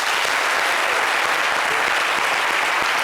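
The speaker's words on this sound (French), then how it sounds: "Applaudissez Voilà. pour Mimi" Sustained applause from a television show audience, dense steady clapping throughout with no break.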